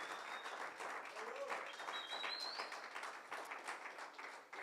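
A church congregation claps along during a Spanish-language sermon, a moderate wash of applause with rhythmic pulses and voices mixed in. A few short tonal chirps rise above it.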